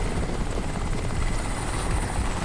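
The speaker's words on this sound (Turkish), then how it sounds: "Ya bu helikopterle burada mı ya?" A helicopter in the Crysis video game flies close by, its rotor thumping as a loud, continuous roar that fills the whole moment without speech.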